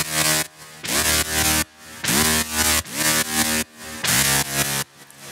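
A buzzy, bright saw bass from the Serum synthesizer plays a series of sustained notes in pumping bursts, each swelling in after a short dip, with no voices.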